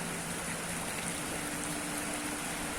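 Steady rain pours down during excavator work on a hillside, a continuous broadband hiss with no distinct drops, fairly soft and unbroken throughout.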